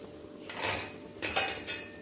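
Fried onion vadas are scooped out of a pan of hot oil in a Kerala kitchen: a few light metallic scrapes and clinks of a ladle against the pan, close by, over a soft sizzling background.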